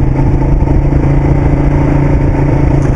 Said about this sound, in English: Still got a lovely growl coming from the exhaust.